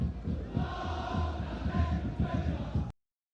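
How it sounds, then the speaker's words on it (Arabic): Steady, dense roar of a crowd in the stands at a Wydad Casablanca versus RS Berkane football match, sustained throughout and cut off abruptly near the end, with commentary over it. "الجمهور في المدرجات"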